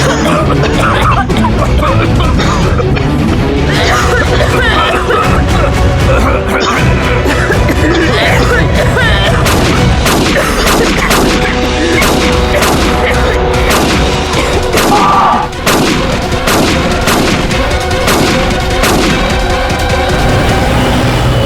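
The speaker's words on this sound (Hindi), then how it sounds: "गोली किसे मारी है?" Loud, dense action-scene audio with repeated sharp bangs like gunfire over a constant roar of noise, no clear pauses.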